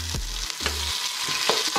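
Ground cumin and browned seeds fry and sizzle in a pot of Antillean red beans while a spoon stirs them, making steady close hissing with soft scraping strokes and no talk.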